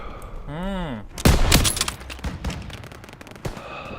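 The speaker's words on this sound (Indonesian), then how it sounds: "They're taking fire from behind." Automatic weapons fire in a Call of Duty battle erupts in dense, close bursts of rapid shots after a short tonal in-game sound, continuing in scattered volleys with another sharp burst near the end.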